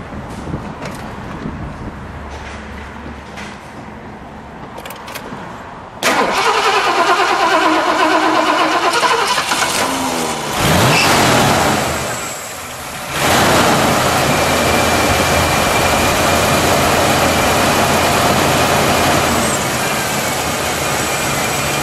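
A 1979 Lincoln Continental Mark V engine, all original with dual exhaust, cranks and fires up, then settles into a steady, loud idle that briefly rises and dips before holding even.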